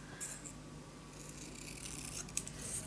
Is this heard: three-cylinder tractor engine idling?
no